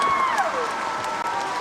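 Concert-hall audience at the Peace Proms in Limerick applauding the children's relatives, a dense, steady wash of many hands clapping throughout, with a thin descending tone sliding beneath it early on.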